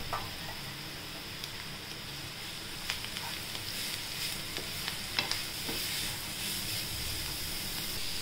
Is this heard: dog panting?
no